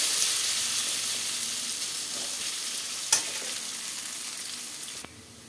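Potatoes frying in hot oil, a continuous bright sizzle and crackle heard up close, with two sharp clicks or scrapes partway through and the sizzling dropping away abruptly at the end, no voices.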